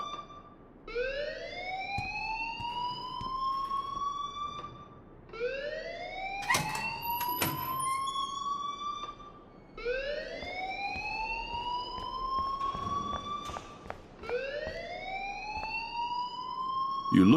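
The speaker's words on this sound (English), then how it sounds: "please turn off that alarm since that's your job" A school fire alarm in the video game Life Is Strange wails in four long rising sweeps with rich harmonics, each climbing then dropping. The repeating cycles run loud and steady with no speech over them.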